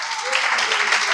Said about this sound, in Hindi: इसलिए भी तालियां हो जाएं।